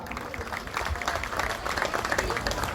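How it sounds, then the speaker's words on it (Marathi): A crowd applauds loudly at a Dahi Handi festival for the girl at the top of the human pyramid, dense clapping building and sustained, with festive noise underneath. "जोरदार टाळ्या झाल्या पाहिजेत मुलीसाठी वरच्या."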